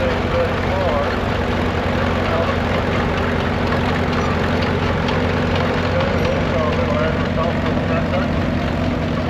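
A 1935 vintage tractor chugs along in a grand parade of old machinery, its low engine drone steady and close; someone talks over it throughout.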